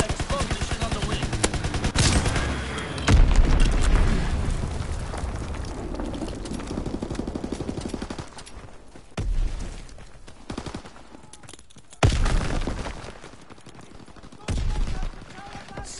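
Dense video game battle gunfire with rapid automatic bursts and booming explosions, loud and continuous at first, then breaking into sporadic bursts separated by quieter gaps.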